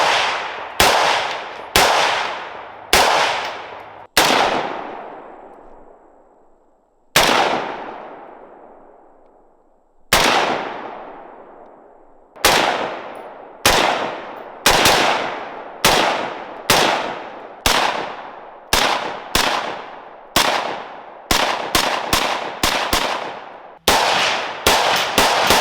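M16-style rifle fired at a shooting range, with loud single shots in irregular succession. Some shots leave long ringing echoes that fade, then faster strings of shots follow near the end, and no one talks.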